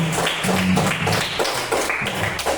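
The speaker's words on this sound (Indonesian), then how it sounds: "tepuk tangan sekali lagi untuk kita semua" A fourth-grade class claps together in a classroom, a short run of rhythmic, closely miked hand claps with uneven accents.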